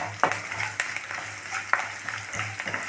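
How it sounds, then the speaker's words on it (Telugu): Spice tempering crackling in hot oil, a continuous close sizzle broken by sharp pops and spatters scattered throughout. "చూడండి చక్కగాను అలా వేగుతుంది పోపు"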